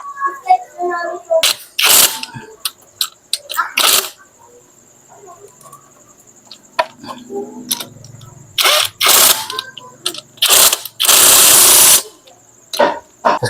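A 12mm tool tightens a bolt during engine assembly on a Kawasaki Fury 125 motorcycle. It gives several short, sharp bursts of ratcheting and clicking, with quiet pauses between them, close and fairly loud.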